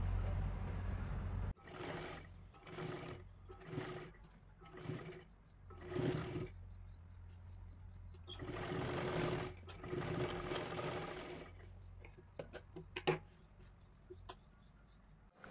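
Sewing machine running in repeated short stitching bursts while sewing a folded strip along the edge of a blouse sleeve, each run separated by brief pauses, close and moderately loud with no talk.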